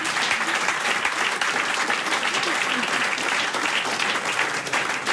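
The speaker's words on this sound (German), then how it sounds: "Dein Applaus." Studio audience applause at a cellar show broadcast, continuous full clapping that stays at an even loudness throughout without any talking.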